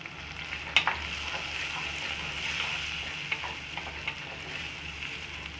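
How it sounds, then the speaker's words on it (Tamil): Spices with turmeric powder sizzle steadily in hot oil for Tamil vatha kuzhambu, a continuous frying hiss with a few scrapes of stirring, close and moderately loud, no talking. "கொஞ்சம் நேரம் வதங்கட்டும்."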